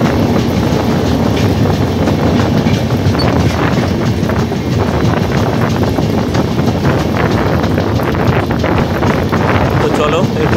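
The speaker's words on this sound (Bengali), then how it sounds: "লুপ লাইনে দাঁড়িয়েছিল, সেইখান থেকে আবার মেন লাইনে তুলে দিচ্ছে গাড়ি।" Passenger train, the Uttar Sampark Kranti Express, moving from a loop line onto a single-track main line along a hillside; a steady, loud rumble of rolling wheels with wind buffeting throughout.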